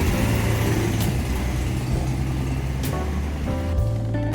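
A 20-year-old Honda NSR 125 motorcycle being ridden, its engine droning steadily with tonal hum and a couple of rev changes, fairly loud and close.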